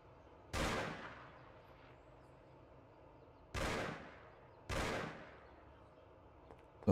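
Three gunshots ring out in a Mafia video game, each a sharp loud crack with a decaying tail, spaced a few seconds apart over quiet ambient background.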